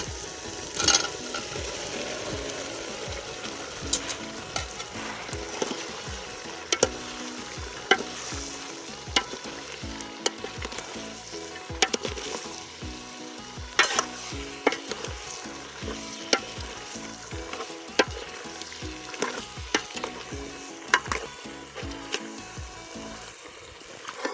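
Potatoes for a dry potato sabzi sizzle steadily in a hot pan while a spoon stirs and scrapes through them in frequent irregular clicks, close and fairly loud throughout with no talking.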